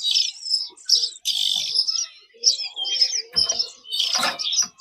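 Small caged birds at a bird shop kiosk, including kapasan kemiri kept in nests, chirp and tweet in rapid, overlapping bursts that stay close and fairly loud throughout, with occasional wing flutters.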